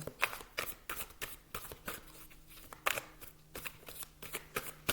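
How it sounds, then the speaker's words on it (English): A large Art of Manifestation oracle card deck is shuffled by hand, giving rapid, papery riffles and slaps in quick irregular bursts, close and steady for several seconds with no talking. "All right, I will shuffle."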